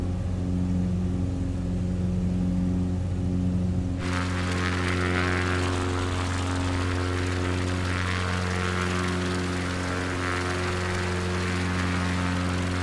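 Propeller airplane engine in Microsoft Flight Simulator, a loud continuous drone with strong steady harmonic hum, joined by a brighter rushing roar partway through as the engine note opens up and holds steady, no voices.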